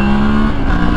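Moto Morini motorcycle engine held at full throttle, a loud, steady droning roar with a sustained tone that shifts slightly partway through, close to the microphone throughout.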